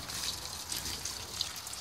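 Collected rainwater trickles into a storage tank, a steady bright splashing dribble with occasional drips, continuous and fairly close.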